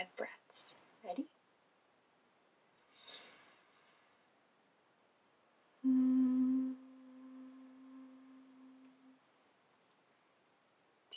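During a calm breathing exercise, a person takes a few soft breaths through the nose, then exhales slowly with a steady, even hum that imitates a buzzing bee. The hum holds for a few seconds and fades before quiet returns.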